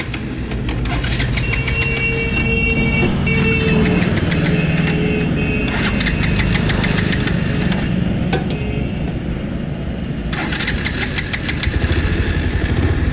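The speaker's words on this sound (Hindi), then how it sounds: "गाड़ी हो गई है स्टार्ट" A Bajaj Pulsar 150cc motorcycle engine turns over and settles into a steady, loud idle, with occasional revving bursts, close by and with no talking.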